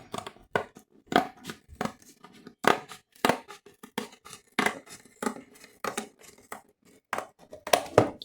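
Scissors or a blade cut through cardboard along a drawn line while a box is customised, giving a close series of sharp snipping and crunching strokes at an irregular pace, with no talk.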